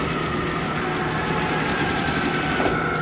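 A sewing machine topstitching close to the edge of a blouse hem, running in a continuous, steady mechanical whir with a fast rhythmic clatter, close and fairly loud, with no voices.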